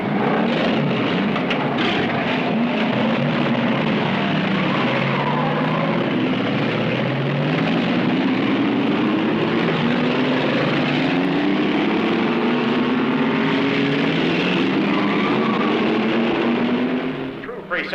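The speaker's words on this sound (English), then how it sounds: "gentlemen, start your engines" Engines of several cars from a Joey Chitwood thrill-driving show in a 1966 Chevrolet promotional setting, roaring loudly and continuously with overlapping rising and falling revs throughout.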